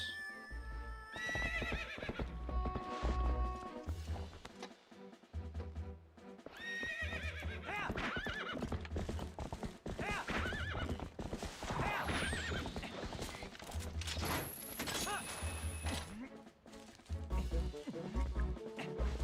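Rhythmic hoofbeats of a galloping horse with loud whinnies and neighs over game music and sound effects in The Legend of Zelda: Twilight Princess, no talking.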